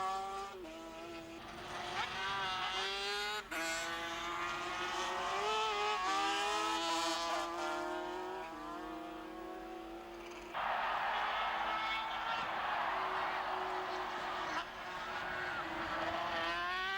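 High-revving sidecar racing outfits scream around the Assen circuit, their engines loud and close, rising through the gears with sharp shifts and one outfit's note cutting over the rest.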